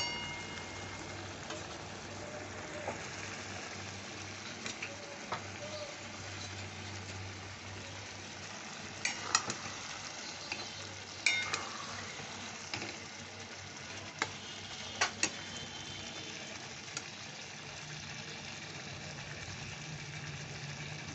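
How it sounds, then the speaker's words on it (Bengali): Mutton keema with yogurt frying in spices inside a pressure cooker, a faint, low sizzle under a steady background hum, broken by a few sharp stirring clinks. "এবার আমি দই মাখানো কিমাগুলো কিমাটা দিয়ে দিচ্ছি ধীরে ধীরে মশলার সাথে এটা কষে নেবো"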